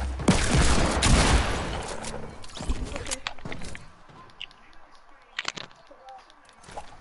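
Shotgun fire during a Fortnite match: a loud flurry of blasts and gunfire fades into scattered, sharper individual shots spaced apart, with faint game ambience between them.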